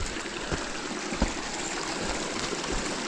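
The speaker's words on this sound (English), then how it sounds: "Fair amount of water flowing here right now." Creek water on a hiking trail runs steadily in a close, even rush with faint splashy ticks and no talk over it.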